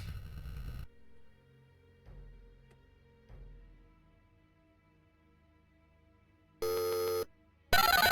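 Synthesized electronic telephone tones from the 1989 Access Software game Tex Murphy: Mean Streets, heard as a few short buzzy bursts followed by louder, harsher tone blocks near the end.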